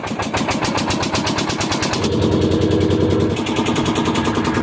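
A motor boat engine chugs loudly and steadily with a fast, even pulse as the boat crosses the Mahananda river at Mahishbathani Ghat, close up and continuous throughout.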